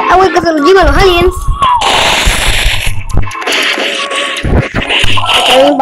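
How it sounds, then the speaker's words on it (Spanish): Sharp gunshots in the video game Pixel Gun crack and burst amid excited Spanish talking and game sound effects, loud and close. "Un balazo."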